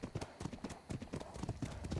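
Horse hooves clip-clop in a steady trotting rhythm in the video game Ark, fairly close and moderately loud, with a faint voice underneath.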